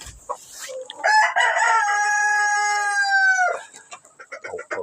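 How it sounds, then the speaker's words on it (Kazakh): A rooster crows once in a long, loud, drawn-out call close by, with short clucks from chickens before and after it in a farmyard coop. "Тауықтарға не болып жатыр бізде?"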